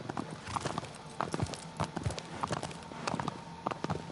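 Horse hooves gallop across open ground in the video game Shadow of the Colossus, an irregular clip-clop rhythm at moderate distance, fairly quiet, with no talk.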